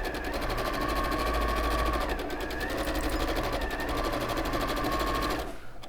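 A sewing machine runs a continuous stitch along the last seam of a quilt, a close, steady mechanical whir with a fast rattling pulse that cuts off abruptly near the end.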